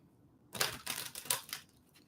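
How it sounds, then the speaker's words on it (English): Tarot cards shuffled by hand at close range, a quick burst of papery riffling and flicking that starts after a short silence and runs in uneven ripples, with no talking over it. "we're going to shuffle that again because that was awful."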